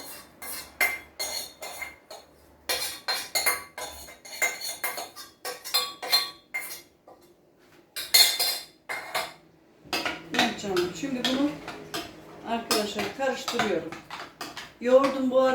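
Browned butter with mint being poured for a yogurt dish: close metallic clinks and scrapes of spoon, bowl and pan come in quick uneven bursts, while someone talks over the later part.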